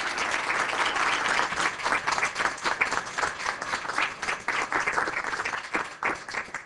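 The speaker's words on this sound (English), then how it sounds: "let's give another round of applause to our speaker" Seminar audience applauding a speaker, a sustained burst of many hands clapping that stays dense and lively, then thins slightly toward the end.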